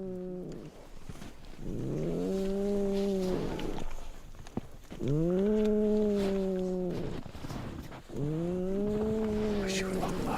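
Polar bear cub snoring on the Hudson Bay tundra, three slow, drawn-out rasping breaths with a pulsing tonal quality, evenly spaced and close, with quiet gaps between.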